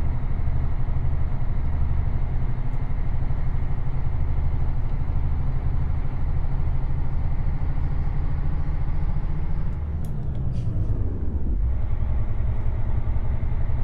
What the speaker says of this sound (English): Listen to this truck though